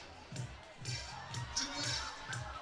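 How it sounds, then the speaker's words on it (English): A softball crowd at a Canada versus Mexico game in Surrey cheers and murmurs in the distance, low and steady beneath a commentator's voice. "The crowd's fired up"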